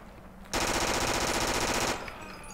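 Submachine gun fire in the Forgotten Hope 2 video game, a single sustained automatic burst of about a second and a half, loud and close, with a quieter game background before and after.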